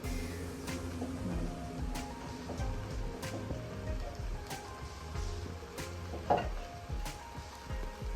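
Grated coconut mixture dry-fried in a pan gives a soft, steady crackling sizzle with faint clicks of a stirring spoon and one brief louder scrape.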